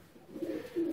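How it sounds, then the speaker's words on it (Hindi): Sialkoti breeder male pigeon held in the hand, giving a soft, low cooing in two short close-up pulses, quiet and alone with no talk. "ये लें जी मेरे हाथ में एक और सियालकोटी कबूतर आ गया।"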